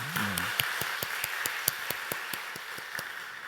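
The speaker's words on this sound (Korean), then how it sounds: "우리 글로리아 성가대 박수 한번 쳐줍시다" Church congregation applauds the Gloria choir, a soft, steady patter of hand claps in an even rhythm, with a brief murmur of voices at the start.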